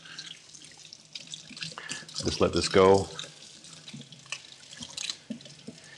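Water runs from a kitchen tap, gurgling and splashing steadily into a sink while a person talks over it, with a brief louder gush in the middle.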